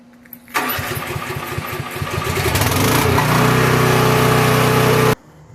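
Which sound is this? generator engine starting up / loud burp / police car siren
generator engine starting up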